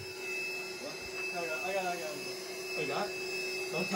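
Shop vacuum running steadily while clearing out a hole in a water heater during a pilot assembly swap, a constant whining roar with people talking over it.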